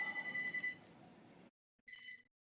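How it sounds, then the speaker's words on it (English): A telephone rings in the background, heard as a faint electronic ring that stops and then briefly repeats, with no talk over it. "Sorry about the phone ringing in the background"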